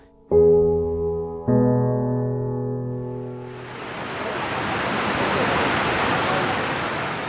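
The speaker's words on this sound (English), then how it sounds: "The serenity and beauty of Kravica waterfalls." Kravica waterfalls in Bosnia pour as a loud, steady broadband roar that rises in after a few seconds of sustained tonal music chords and then carries on alone to the end.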